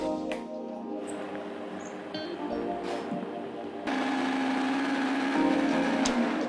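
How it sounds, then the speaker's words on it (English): A blender whirs through soaked oats and egg mix, a steady motor hum that shifts pitch and grows louder partway through as the batter thins, fairly quiet and close with no talking. "we'll be transferring our soaked oats into our blender, followed by our egg mix, and we will transfer this and go ahead to blend"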